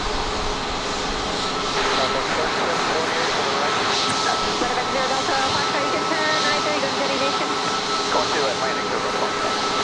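A jet airliner making a go-around at Dallas Love Field, a steady broad roar of engine noise that holds loud and continuous throughout.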